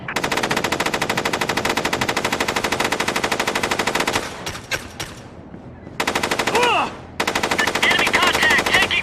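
Rapid automatic gunfire in a video game, loud and continuous, breaks off briefly for a few scattered shots and then resumes in sustained bursts.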